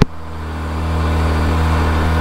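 A 2023 Kawasaki ZX25RR motorcycle engine runs close by in first gear after a sharp click at the start, a loud, even, high-revving four-cylinder drone that builds slightly and holds steady with no talking.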